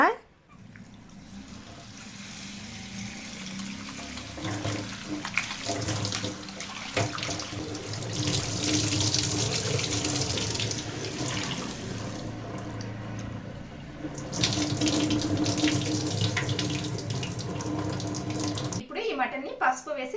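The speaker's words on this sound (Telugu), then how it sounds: "ఇప్పుడు ఈ ముక్కలను అయితే నీట్గా వాష్ చేసేద్దాం" Mutton pieces are washed under a running kitchen tap, a steady close rush of water that swells louder partway through as the pieces are rinsed, ending abruptly.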